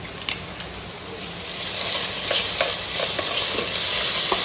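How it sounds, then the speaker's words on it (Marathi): Ginger garlic paste fries into sautéed onions in a pan, a loud close hiss of sizzling that swells after the first second and holds steady, with faint stirring scrapes and no talk. "इथे कांदा चांगला परतवून घेतल्यानंतर त्यामध्ये आलं लसूण पेस्ट टाकायचे"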